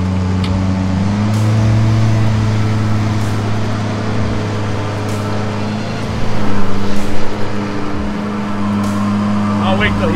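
A vehicle goes by close to a roadside motorcycle workshop. Its steady engine drone swells louder for a moment midway, then settles back, with muffled voices underneath.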